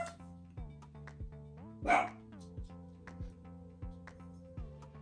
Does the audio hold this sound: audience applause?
no